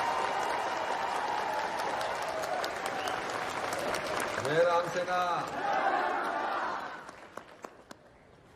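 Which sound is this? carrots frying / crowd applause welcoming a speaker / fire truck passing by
crowd applause welcoming a speaker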